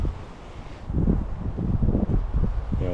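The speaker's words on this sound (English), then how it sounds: "I don't typically like fishing in the wind" Wind gusting over a trout creek, blowing as steady broadband rushing with rustling, rising and buffeting the microphone in irregular surges. No voices are heard.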